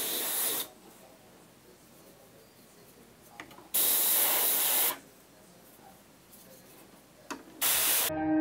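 An airbrush sprays red candy paint in three steady hissing bursts, each lasting about one second, separated by near silence.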